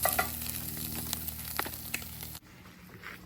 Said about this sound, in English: caribou burger is nicely browning